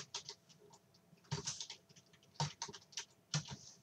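Quiet clicks of a computer keyboard while entering an Excel formula, irregular keystrokes in small clusters with brief pauses between them.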